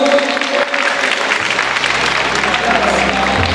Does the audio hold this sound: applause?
yes